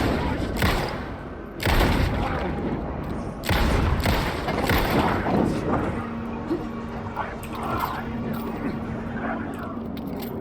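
Heavy gunshot bursts and thuds from the video game Alan Wake 2 boom loudly in clusters, then fade to quieter in-game ambience, with a player's voice speaking at times.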